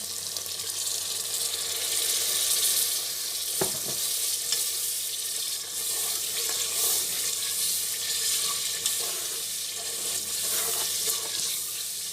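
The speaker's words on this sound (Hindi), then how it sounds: "ये थोड़ा सा पानी डालने लगा हूँ, 100 ml।" About 100 ml of water poured into a hot pan of tomato paste and green chillies, giving a loud continuous sizzle and hiss with a few sharp spits and crackles, no voices.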